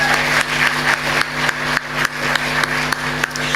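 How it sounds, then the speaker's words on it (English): Audience applauding recipients at a tourism awards evening, loud continuous clapping with a few sharper bursts, over a steady hum of background music. "Please give them another round of applause."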